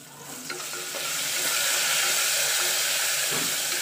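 Chopped onions with hing and cumin frying in a pan for sambar give a steady, close sizzle that swells after the first second and holds loud and even, with faint scraping of stirring.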